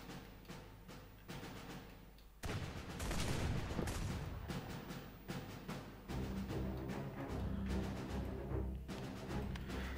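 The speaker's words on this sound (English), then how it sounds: "We've just got to focus our cannon and volley fire at them." Cannon and volley fire rattle through an Airships Conquer the Skies battle, rapid overlapping booms and cracks in dense bursts, growing heavier and continuous after a loud blast, with no talk.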